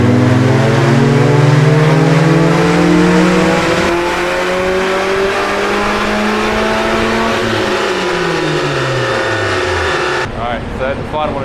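A modified project car revs hard on a rolling road dyno, its engine climbing steadily in pitch through a long, loud pull before dropping off abruptly near the end.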